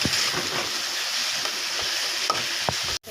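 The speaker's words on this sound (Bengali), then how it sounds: "লঙ্কার গুঁড়া, হলুদ, লবণ, জিরা, রসুন বাটা, এগুলো সব আমি এখন তেলের মধ্যে দিয়ে দেব" Ground chili, turmeric, salt, cumin and garlic paste sizzle loudly in hot oil with fried tomato, a steady crackling hiss with a few stirring scrapes, ending in a brief sharp knock.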